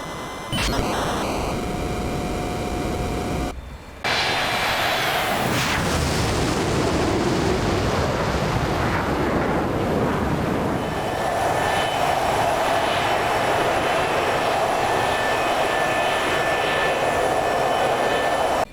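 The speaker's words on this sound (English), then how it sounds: "today I am flying in the A-4E Skyhawk" The jet engine of an A-4E Skyhawk in the DCS flight simulator roars loud and constant, with a sharp cut and restart near four seconds, then settles into a broad steady whine and rumble. No one talks.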